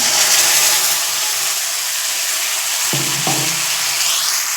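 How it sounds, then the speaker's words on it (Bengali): Prepared spice paste for an egg and potato curry hits reddish-fried onions in hot oil, producing a loud, steady, close sizzle throughout, with a brief scrape of a utensil near the end. "পেঁয়াজগুলো লাল লাল করে ভাজা হয়ে গেলে এখন ঢেলে দেব তৈরি করা মশলাটা।"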